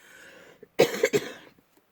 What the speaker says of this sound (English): I'm so sorry about coughing